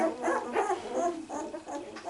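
A one-week-old Berger Blanc puppy whimpers under stress, giving a close run of short, high, wavering whines and yips in quick succession with brief gaps between them.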